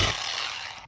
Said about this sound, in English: So I need to basically drill through that mount now